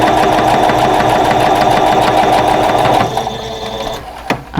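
Sewing machine stitching rows of a quilt block together, a steady loud mechanical whir with rapid stitch rhythm for about three seconds, then slowing and stopping with a few faint clicks.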